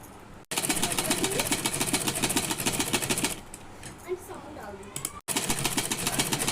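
Sewing machine stitching saree fabric for a gown, a fast steady mechanical whirring chatter that runs loud, drops for a stretch of quieter handling, then resumes abruptly; someone speaks over it.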